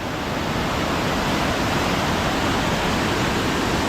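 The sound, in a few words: rushing water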